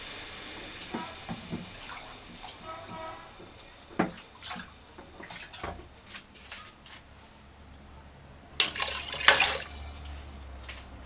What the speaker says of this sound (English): Add 3 cups of water for 1 pound.